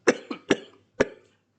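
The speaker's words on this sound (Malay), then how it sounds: "Batuk-batuk" A person coughs four times in a short burst, three quick dry coughs followed by one more after a brief pause, close and clear.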